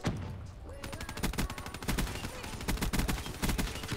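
Gunfire rattles through a Black Ops 3 multiplayer match, dense rapid bursts of automatic shots repeating almost continuously and loud up front.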